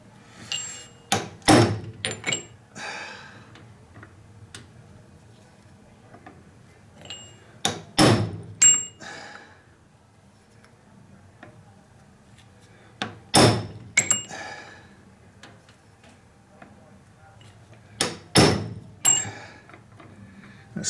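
A hammer strikes a pin on a Model A Ford distributor to peen and flatten it, sharp metallic taps landing in small clusters of two or three blows with quiet pauses between.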